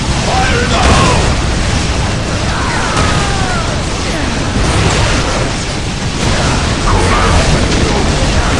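Grenade blasts in Warhammer 40k Dawn of War, loud booming explosions rolling over dense battle noise, with shouted voices and whistling projectiles mixed in.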